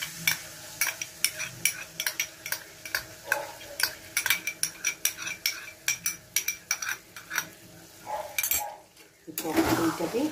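A spoon stirs and scrapes through sour yogurt frying in a pan for a banana curry, giving repeated metallic clinks and scrapes over a soft sizzle, close and fairly clear.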